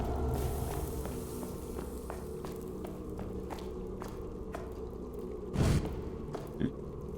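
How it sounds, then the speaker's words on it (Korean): Footsteps in the underground dungeon of the horror video game The Wailer, a steady series of soft, regular steps over a dark rumbling ambience, with a louder thump near the end. "발소리 입니다"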